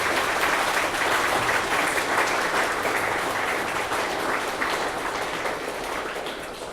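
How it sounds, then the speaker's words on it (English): An audience gives a big, sustained round of applause for panelists at a PeaceTalks event on reconciliation and Indigenous innovation, thick continuous clapping that fades slightly toward the end. "Big round of applause, please, for our panelists"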